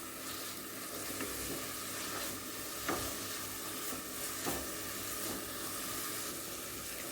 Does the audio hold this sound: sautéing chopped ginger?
yes